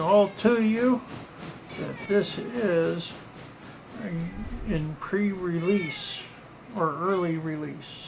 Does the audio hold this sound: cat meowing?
yes